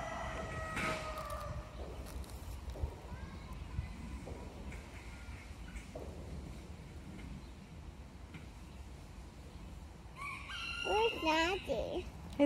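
A rooster crows outdoors with several drawn-out calls, the loudest near the end, while children and an adult talk nearby and other farmyard noises run underneath.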